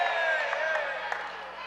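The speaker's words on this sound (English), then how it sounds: "a big cheer went up" Crowd at an adult wheelchair basketball game between the Whirlwinds and the Crabpots lets out a brief cheer, steady and moderately loud, with some whoops mixed in.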